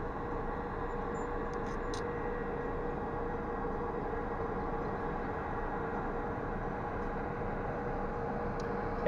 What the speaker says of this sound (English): Look, the train, brother.